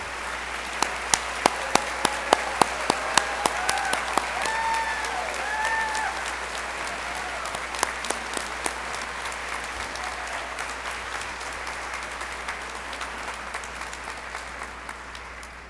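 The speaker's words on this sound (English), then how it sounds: "We would like all of our 5th and 8th grade completers that are here with us today to please stand for a round of applause." Graduation ceremony audience applauds for fifth and eighth grade completers, a steady wash of many hands clapping with a few sharper nearby claps standing out, continuing evenly and slowly thinning toward the end.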